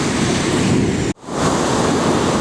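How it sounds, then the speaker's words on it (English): Heavy swell rolls onto a beach at high tide by a river mouth, a loud continuous roar of breaking surf with wind buffeting the microphone, briefly dropping out before the wash surges back. "Quite a heavy swell and waves coming onto the beach."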